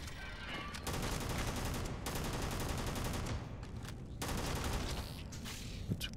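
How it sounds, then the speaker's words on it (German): Gunfire in the space video game Starfield, a rapid automatic burst that runs steadily for several seconds, breaks off briefly, then resumes, with a sharp crack near the end; moderately loud and with no talk over it. "knall ich den halt einfach so ab."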